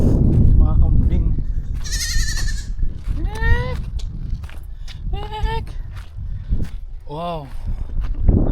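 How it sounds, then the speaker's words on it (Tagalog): Goats near an old stone house in Ilocos Norte bleat several times, wavering cries that are fairly close, over wind, rustling and footsteps, with people talking in between. "May mga kambing, oh. Guys, may mga kambing."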